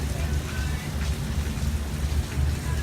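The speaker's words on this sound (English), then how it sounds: "And it's raining." Rain falls steadily during a storm, a constant hiss of drops on surfaces with a low rumbling underneath, moderately loud and continuous.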